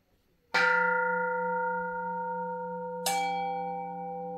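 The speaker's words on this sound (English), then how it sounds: "I'm playing Japanese and Korean temple bells." Japanese and Korean temple bells are played back through a high-end audio system. Two struck tones ring out about two and a half seconds apart, each with a sustained, shimmering hum that lingers under the next strike.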